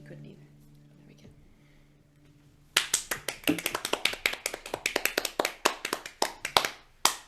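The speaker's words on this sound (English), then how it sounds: "we're applauding because you are wonderful" After a quiet start with faint tones, a group breaks into brisk, close clapping over a video call, dozens of sharp hand claps running on for several seconds.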